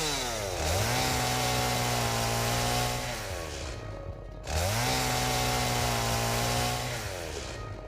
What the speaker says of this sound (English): Can I chainsaw this stuff?